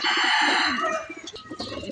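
Racing pigeons being readied for a derby call from inside a loft in a brief, close burst of cooing and fluttering calls that fades after a second.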